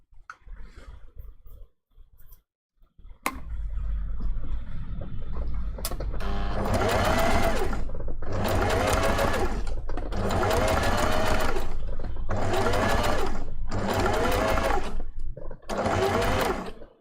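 Sewing machine top stitching an appliqué design onto fursuit hand paws, several loud bursts of rapid mechanical stitching separated by short pauses, after a few quiet handling clicks.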